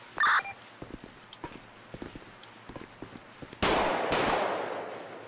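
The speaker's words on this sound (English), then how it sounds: "Shots fired." Gunfire in a police roleplay video game during a hostage standoff in a house: scattered light clicks and footsteps, then two loud, sharp shots close together, each trailing a reverberant decay.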